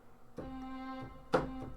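Orchestral staccato samples in VSL Synchron Player, heard as two faint, short tonal notes about a second apart, each with a soft attack and a brief ringing tail.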